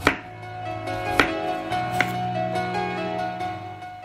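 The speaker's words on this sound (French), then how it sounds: "On coupe une demi-carotte en tranches de 5 mm environ" A knife cutting half a carrot into slices about 5 mm thick on a board, three distinct chops at a steady pace, with a continuous tonal hum underneath.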